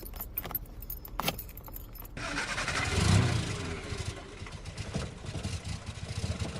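A car engine cranks and catches after a jangle of keys, then settles into a steady idle drone that stays close and fairly loud for several seconds.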